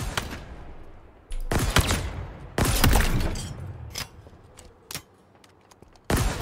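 Mangler weapon firing in Halo Infinite multiplayer, with loud, punchy heavy shots spaced irregularly, some in quick doubles, each followed by a brief crackling tail against a quiet game background.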